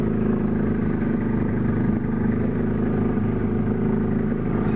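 A boat motor drones steadily on Lake Union, a loud, continuous mid-pitched engine rumble heard close by with no break.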